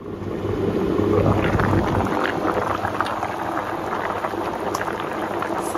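Fish soup with tomatoes, chili and onions boiling in a pot, a steady bubbling hiss with a low rumble, loud and close, without speech.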